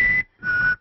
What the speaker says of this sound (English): don't whistle that.